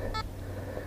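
A metal detector gives one short, clear electronic beep over steady background hiss while treasure hunting outdoors over a buried target of light aluminium wire.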